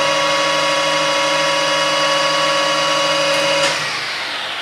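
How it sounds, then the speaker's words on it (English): A metalworking lathe drills a starter hole with a center drill, giving a loud, steady whirring whine that drops away and winds down near the end. "Anytime you want to drill on the lathe, you should always use a center drill first of all and start off your hole."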